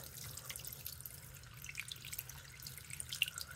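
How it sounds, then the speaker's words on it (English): Water drips and trickles faintly over soapy scrubbing at a sink, a quiet patter of small irregular splashes with low background hum. "I'm putting soap on I'm literally cleaning it right now"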